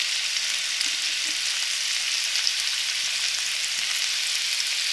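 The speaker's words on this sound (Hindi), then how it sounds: "ऑयल हमारा गरम हो गया है। अब हम इसमें प्याज डाल देंगे।" Onion frying in hot oil for dahi kebab gravy: an even, unbroken hiss of sizzling, close and steady throughout, with no voices.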